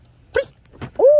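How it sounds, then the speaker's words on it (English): A dog gives two short soft barks followed by a longer, louder yelp-like bark, all close to the microphone in a quiet setting. "He's a good dog."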